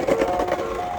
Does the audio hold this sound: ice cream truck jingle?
yes